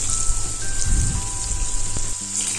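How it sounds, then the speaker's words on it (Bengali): Cut ridge gourd goes into hot oil with panch phoron and dried chilli, producing a loud, steady, hissing sizzle close up that fills the whole short stretch, with no voices. "কেটে রাখা ঝিঙেটা ওর মধ্যে দিয়ে দেব।"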